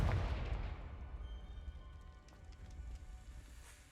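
A Confringo spell blast in Hogwarts Legacy: a heavy booming impact up front that rumbles and crackles away into a lingering fiery, rain-like hiss.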